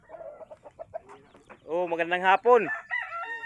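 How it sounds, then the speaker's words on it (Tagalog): Chickens at a rural home in the Philippine countryside. A person speaks a brief greeting, then a rooster's crow and clucking burst out close and loud over the last couple of seconds. "Ganda ng manok."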